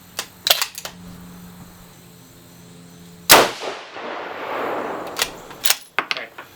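A 6mm Creedmoor rifle firing a 112-grain Match Burner bullet, one sharp loud report followed by a decaying rumble, framed by mechanical clicks and clacks of bolt handling.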